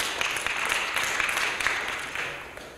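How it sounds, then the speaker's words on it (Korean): Audience applause at a ceremony, a steady, fairly loud wash of many hands clapping that continues throughout the short stretch and eases slightly toward the end. "다시 한번 박수 부탁드리겠습니다."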